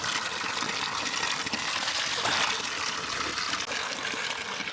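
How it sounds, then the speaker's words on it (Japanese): Hot spring water pours steadily from the right-hand spout at Seomi Onsen in snowy Yamagata, a continuous close splashing gush with no voices. "右の滝ですね。"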